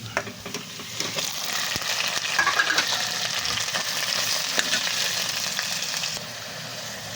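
Ground beef sizzles steadily in a hot pan as it is sautéed, a continuous bright frying hiss with occasional scrapes of stirring, close and fairly loud throughout, with no talking.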